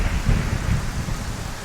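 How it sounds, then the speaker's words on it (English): Thunder rolls with heavy rain in the video game Skyrim, a loud, close low rumble over a steady hiss of rainfall, with no talking over it. "That is very, very loud lightning."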